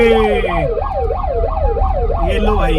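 Siren fitted on a modified Toyota Fortuner with 24-inch alloy wheels, loud and close, wailing up and down in a steady rhythm over an idling engine, with a brief spoken remark.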